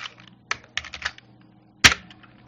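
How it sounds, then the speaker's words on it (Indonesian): Several separate keystrokes on a computer keyboard, close and crisp, followed by a louder final key press, likely the enter key, with no talking. "Pastikan ketikannya sama ya, stop."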